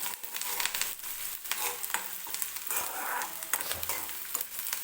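Chopped onion sizzles and fries in hot oil in a pan for a cauliflower and green pea bhaji, with close, steady frying crackle and occasional scraping stirs throughout, no voices.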